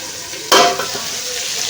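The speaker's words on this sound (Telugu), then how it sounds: "రెండు టమాటాలు సన్నగా కట్ చేసి వేసుకొని బాగా వేయించుకునేయాలి" Sliced tomatoes fry in a pan, a sudden loud sizzle bursting up as they hit the hot oil, then settling into a softer continuous frying hiss with a faint utensil knock.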